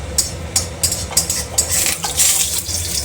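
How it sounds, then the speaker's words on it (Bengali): Dried chili and five-spice seeds temper in hot oil in a pan, a close sizzle under repeated sharp scrapes and clinks as a utensil stirs against the metal. "এখানে দিয়েছি শুকনো লঙ্কা ফোড়ন আর একটু পাঁচ ফোড়ন দিয়েছি।"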